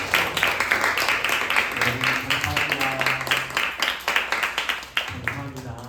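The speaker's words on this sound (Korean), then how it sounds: "우리 하나님 앞에 영광의 박수 돌리도록 하겠습니다." A church congregation at a Sunday worship service gives sustained applause, many hands clapping densely throughout, with voices speaking over it.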